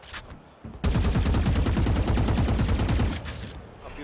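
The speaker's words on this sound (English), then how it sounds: "A few random shots here and there and nothing else." A dense, rapid burst of automatic gunfire from a competitive esports video game match runs loud and close for about two seconds, then fades into quieter game noise.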